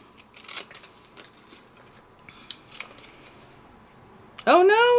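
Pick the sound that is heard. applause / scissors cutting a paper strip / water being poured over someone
scissors cutting a paper strip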